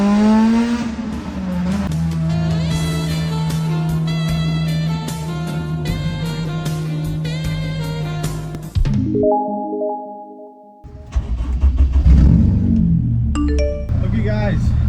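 A K-series-engined Honda Civic revs hard and pulls away on its first test drive, the engine climbing through the gears, then a brief pause with a tone before loud acceleration resumes; a voice is heard in places.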